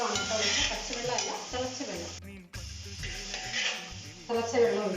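Boiling water poured slowly onto fried vermicelli in a pan for semiya payasam, a loud, steady hiss and sizzle with stirring and pot clatter, broken by a brief gap midway.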